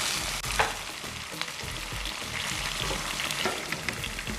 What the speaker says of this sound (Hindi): अब इसमें हम टमाटर डाल देंगे, फिर थोड़ी देर तक इसको चलाएंगे।